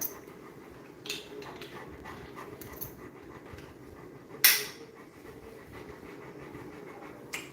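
A dog pants steadily and quietly close by, a continuous breathy rhythm broken by a few faint knocks and one sharp click.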